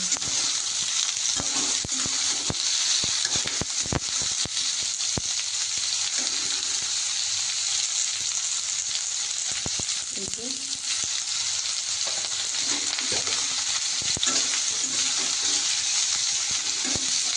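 Carrots, potatoes, tomatoes and green chillies fry in a pan with a steady, loud sizzle and hiss, broken by occasional scraping stirs and faint background voices.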